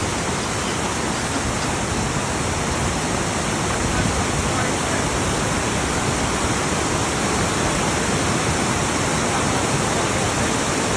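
River water rushes loud and steady at a river crossing on the Tour du Mont Blanc, a continuous broadband wash with no voices over it.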